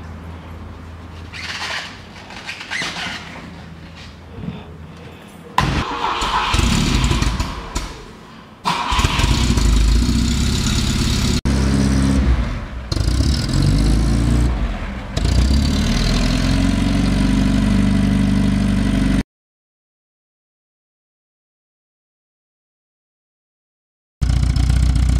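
A vintage pre-1970 fuel-injected Volvo engine cranks, catches and settles into a steady, rumbling idle, close and loud, with some revving along the way, then a sudden silence before it returns.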